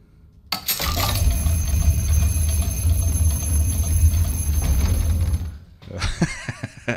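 An alarm clock ringing in the video game Resident Evil 7, a loud continuous metallic bell rattle starting abruptly and running for several seconds before stopping, then a few short clattering knocks.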